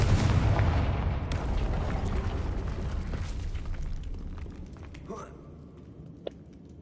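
A Confringo fire spell blasts in the Hogwarts Legacy video game, a loud booming explosion with a rumbling burst that fades over several seconds, layered with game sound effects.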